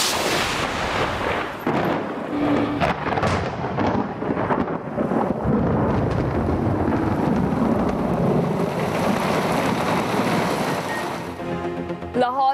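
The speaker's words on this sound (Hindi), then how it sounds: "लाहौर में मूसलाधार बारिश" Heavy downpour over Lahore, with a hailstorm striking the streets, makes a dense, loud, unbroken roar of rain and pelting that holds steady throughout.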